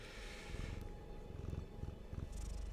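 A small cat purring close to the microphone while standing on a computer mouse and brushing against the mic, giving a low rumbling purr with rustling bumps against the mic, no speech.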